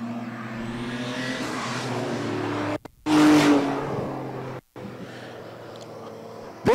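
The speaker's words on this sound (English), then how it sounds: "Clark will get himself a grill full of Mitsubishi GT3000." A Mitsubishi GT3000 race car at a one-on-one drag race, its loud engine roaring and revving close by, broken by two sharp gaps with a brief bright burst between them.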